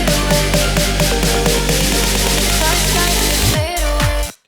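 Snare hits within a full electronic dance mix with heavy bass, the reverb thinned by an automated high-cut filter, steady driving rhythm, loud and dense, cutting off abruptly after a short sweeping tail.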